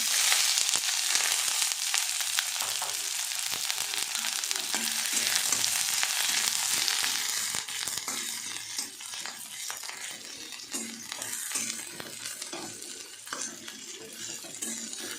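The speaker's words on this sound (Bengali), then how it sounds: "তেল গরম হয়ে গেছে এবার দিয়ে দেবো পেঁয়াজ আর কাঁচা লঙ্কাটা" Chopped onion and green chili dropped into hot oil, a steady bright sizzle and frying hiss with occasional stirring and utensil clinks, close and continuous, no talking.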